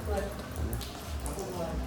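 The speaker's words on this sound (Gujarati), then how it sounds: "ખાલી વરસાદ ચાલુ થઈ ગયો" Rain just beginning to fall in a village near Rajkot, Gujarat: a soft, steady patter of drops that continues throughout, with a voice talking over it.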